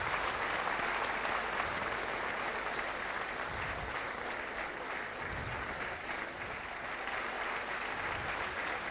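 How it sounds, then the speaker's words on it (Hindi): Studio audience applause welcoming a guest onto a Hindi television talk show, a steady dense wash of clapping that holds at an even level for about nine seconds with no talk over it. "तो स्वागत करिए तालियों के साथ पायल बंसल का।"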